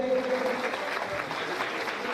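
An audience claps steadily to welcome the chief guest at a statue unveiling ceremony. The dense, sustained applause fills the room, with a voice briefly audible underneath near the start.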